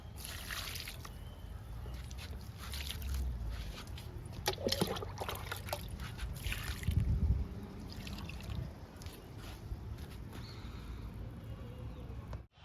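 Liquid fertilizer poured onto potted adenium plants, soft trickling and sloshing close by, with a few handling knocks along the way.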